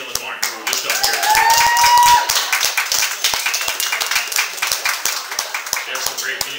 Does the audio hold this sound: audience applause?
yes